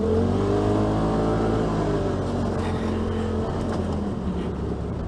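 A 2018 Polaris RZR XP Turbo S side-by-side revs loudly up close, a sustained, droning engine roar with layered tones that holds steady and eases slightly toward the end.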